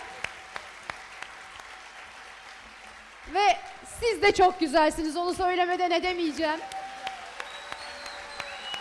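Audience applause rings out at a Turkish folk music choir concert by the Atakent choir, a steady clatter of clapping running beneath a presenter who speaks throughout.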